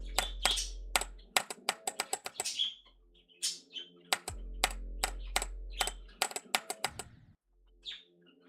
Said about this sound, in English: if I start like typing something in here